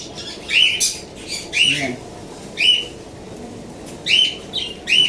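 A pet bird for sale squawks in short, loud, harsh bursts, about six calls spaced unevenly with brief pauses between them, close to the listener, with a faint low murmur underneath.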